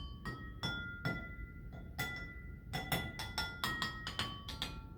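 Glasses of water struck with a wooden spoon give a series of bright, ringing clinks of different pitches, some single and some in quick runs, each leaving a short resonant tone.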